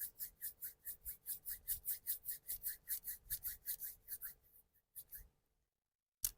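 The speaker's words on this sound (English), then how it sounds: "We can rub our palms in front of us." Palms rubbed briskly together at the close of a yoga session, a quick series of close, soft swishing strokes in a steady rhythm that slows and stops, followed by near silence.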